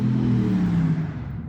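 Racing car engines on a nearby track during race day, a steady loud rumbling roar that swells and then eases off over a brief stretch, no talk.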